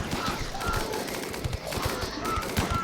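Gunfire from snipers in the video game RimWorld, a dense run of sharp, rapid shots crackling through the whole stretch over a steady game soundscape, with no talk.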